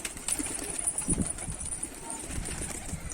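A kelebek pigeon flying over a new rooftop loft: soft cooing and faint wing flutter come in irregular bursts over a steady high hiss of outdoor background.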